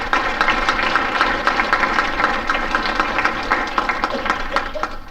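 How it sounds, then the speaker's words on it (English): Applause from an audience at an awards evening honoring education recipients, a dense steady patter of clapping filling the room for several seconds with a few scattered chuckles mixed in. "give them another round of applause"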